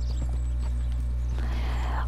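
A horse in Red Dead Redemption 2 runs with quick, rhythmic hoof clip-clops and a hint of a whinny, loud and close, with some background game noise.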